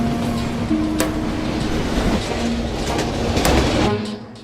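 A train speeds down a hill toward San Bernardino with its air brakes on full, a loud continuous rumble of wheels on rail with rhythmic clacks and a steady tonal whine throughout.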